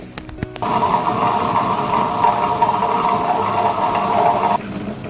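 A wet grinder grinds soaked urad dal with a steady loud mechanical hum and a rumbling churn. Brief knocks come just before the motor settles into its drone, and the sound drops off near the end.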